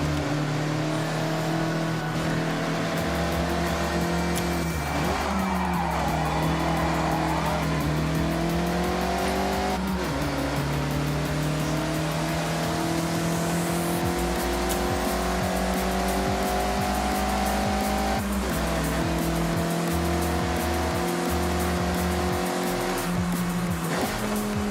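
A Mazda MX-5 drifting through corners in Forza Horizon, its engine holding a high, strained tone that dips and climbs with each slide, tire squeal threading through, loud and continuous.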